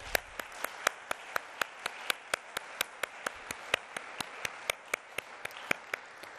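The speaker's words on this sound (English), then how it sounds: "maybe we can give everybody a good round of applause" Audience clapping at a UNESCO-hosted centennial celebration comes as sparse, crisp, evenly spaced claps in a steady rhythm, quiet overall against a hushed room.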